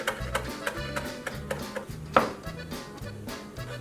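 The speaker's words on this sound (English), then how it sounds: "Next, chop up a little cilantro." A knife chopping cilantro on a cutting board, a quick steady run of about a dozen close thumping strokes in an even rhythm, with no one talking.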